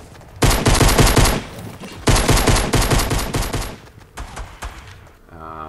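Rapid automatic gunfire in Fortnite Season 5 on PS4, two loud sustained bursts of fire with a shorter burst after them, followed by a brief in-game chime.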